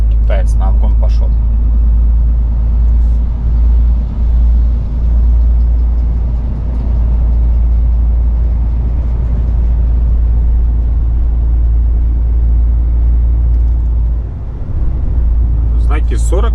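A car engine drones steadily while overtaking on a road, with loud, continuous low cabin rumble throughout. A voice speaks over it.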